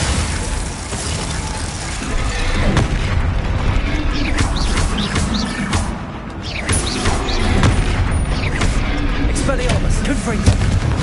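Bombarda and Confringo spell blasts in Hogwarts Legacy land as repeated booming impacts and crackling bursts over a dense layer of combat noise, with a voice talking throughout.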